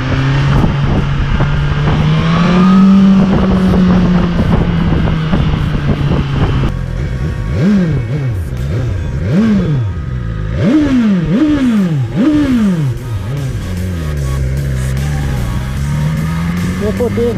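A 2020 BMW S1000 XR 165 hp motorcycle on a test ride accelerates hard through the gears, with repeated rising engine sweeps and quick shifts, loud and close over continuous wind and road noise.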